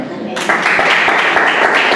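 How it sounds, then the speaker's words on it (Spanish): A church congregation breaks into applause for the Lord, a sustained wash of many hands clapping close by, rising suddenly after a brief spoken moment and carrying on steadily. "Vamos a dar un aplauso al Señor"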